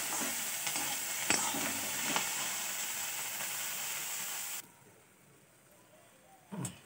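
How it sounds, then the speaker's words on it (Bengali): Prawns frying in hot oil and being stirred in a pan give a steady close sizzle with scraping stirs, then the sizzle drops away near the end before a brief clatter. "মাছ ভাজা হয়ে গেল"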